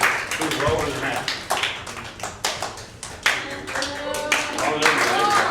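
Audience clapping at an improv theatre graduation show swells and pulses in uneven bursts, with voices and cheers mixed among the claps and the volume rising toward the end.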